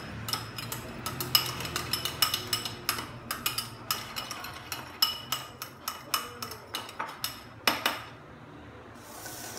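A spoon stirring a mix of salt and sugar in a bowl gives a run of sharp little clinks and scrapes in an uneven rhythm, close and fairly clear, with no one speaking.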